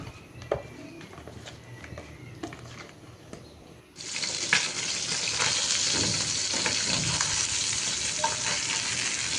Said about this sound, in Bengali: এখন এই তো পাবদা মাছগুলো আমি ভাজবো